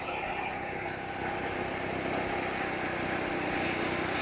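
A wet drive belt slipping on its pulley on a McLane GreenKeeper lawn mower produces a steady, loud engine drone that runs on continuously and evenly throughout, with no talking.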